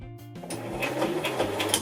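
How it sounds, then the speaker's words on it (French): A sewing machine stitches a seam on a fabric pouch, starting with a brief stutter and then settling into a steady, close mechanical whirr and rapid needle clatter, with no voices. "Je vais juste faire une couture qui descend ici"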